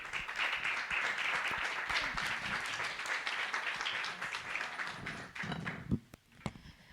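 Audience applause at the launch of Chile's 2024 joint needs assessment, an even wash of many clapping hands that thins out near the end, leaving a few isolated claps and light taps.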